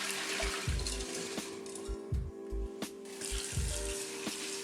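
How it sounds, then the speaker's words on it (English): Soaked Thai black rice is being washed by hand in water, making soft sloshing, swishing and splashing with low thumps in an irregular rhythm, close by at a modest level. "First, you thoroughly wash the soaked rice."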